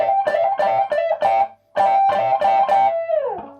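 An electric guitar plays a short bluesy lick in choppy quarter-note triplet bursts, a brief pause midway, ending with a gliding slide down in pitch; close and fairly loud.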